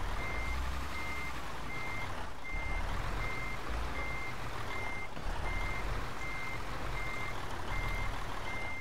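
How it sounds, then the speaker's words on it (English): Truck reversing alarm in Euro Truck Simulator 2, beeping in a steady evenly spaced rhythm, about three beeps a second, loud and clear over a constant low diesel engine rumble, with no talking. "How hard is it to reverse and park a truck?"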